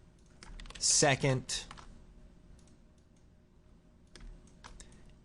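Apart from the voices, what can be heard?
typing on a computer keyboard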